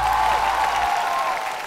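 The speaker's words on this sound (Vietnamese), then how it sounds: "chúng ta cùng dành một tràng pháo tay để cùng gặp gỡ với hai đội chơi" Studio audience at a Vietnamese television game show breaks into steady, dense applause that holds at full strength for the whole short stretch, welcoming two competing teams onto the stage.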